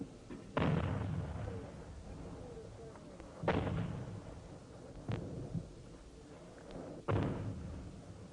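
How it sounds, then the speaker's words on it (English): Enemy mortar fire in a Vietnam war recording: four heavy, distant booms spaced a couple of seconds apart, each a sharp thump with a rumbling tail over a low background. "There, the flash of enemy mortars from that hilltop."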